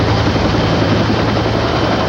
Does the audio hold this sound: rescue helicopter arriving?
yes